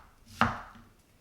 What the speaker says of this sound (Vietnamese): Cắt hành có độ dày càng đều nhau càng tốt vì hành sẽ chín đều hơn.